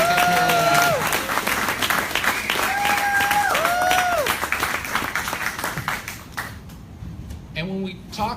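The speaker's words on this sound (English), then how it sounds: "Give yourselves a round of applause" Audience applause at a summit, loud and sustained for several seconds as clapping fills the hall, with voices calling out over it before it thins toward the end.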